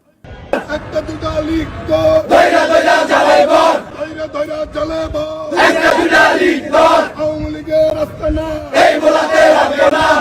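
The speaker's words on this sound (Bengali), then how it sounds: "ছাত্রদলের গুন্ডারা তাঁর জানাজাকে কেন্দ্র করে দেখুন স্লোগান দিচ্ছে" A large crowd at a funeral prayer gathering chants political slogans in loud, rhythmic bursts, with a lead voice calling and many voices answering in repeated waves.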